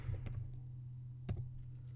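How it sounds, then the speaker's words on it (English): A search being typed on a computer keyboard, a few quick key clicks early and another short cluster a second later, faint over a low steady hum. "if we just type in motivation"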